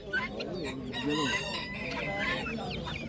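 A Denizli rooster crows loudly and close by at a bird market, its call rising and falling across several seconds among other clucking fowl.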